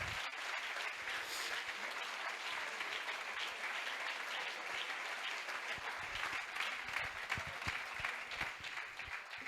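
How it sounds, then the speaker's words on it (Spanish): Audience at a Sevilla football colloquium giving sustained applause, a dense, even wash of many hands clapping at once, steady throughout and moderately distant. "me gustaría que le mandáramos en forma de aplauso nuestra mayor ilusión y energía positiva"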